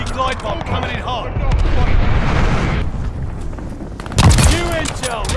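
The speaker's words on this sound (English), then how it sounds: "Heads up, enemy glide bomb coming in hot" A glide bomb blast in Call of Duty: Vanguard, a video game, on the Berlin map during a hardcore Hardpoint match: booming explosions and gunfire over a loud battle din, with a sharp heavy burst near the end and voices over it.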